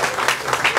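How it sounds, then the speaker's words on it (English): Brief crowd clapping at an outdoor ribbon-cutting for a renovated tennis center, honoring the police chief; a short, loud patter of many hands with no voices. "Give him a round of applause"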